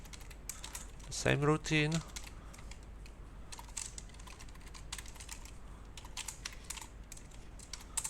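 Someone types on a computer keyboard at close range: bursts of quick, crisp key clicks spread across the clip, with a brief spoken phrase early on and a faint room hum beneath.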